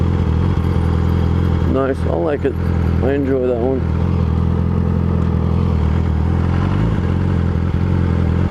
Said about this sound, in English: What kind of bikes are those? Pretty sweet motorcycles.